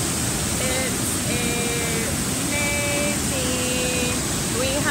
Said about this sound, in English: the waterfall is so loud